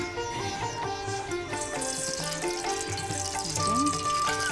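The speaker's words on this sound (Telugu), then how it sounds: "అంటే ఇప్పుడు రవ్వను వేయిస్తూ ఉంటారా? రవ్వను వేయించి." Semolina (rava) roasts in ghee in a pan, a faint continuous sizzle and crackle with light stirring, heard beneath voices and background music.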